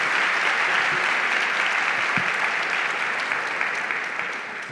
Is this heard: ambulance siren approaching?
no